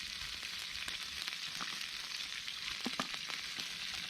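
Bacon sizzling in a pan over a campfire, a steady close crackling hiss with scattered sharp pops and spits throughout, no voices.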